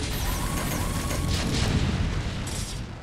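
Terran siege tanks firing in StarCraft Remastered during a Brood War campaign battle, heavy booming artillery blasts over dense continuous battle noise, loud and layered with no talking.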